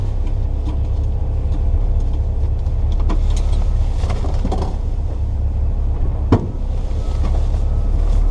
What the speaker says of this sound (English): I've never driven a P1800 before, so let's see what this is like